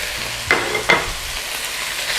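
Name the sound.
stir-frying chicken with peppers and onions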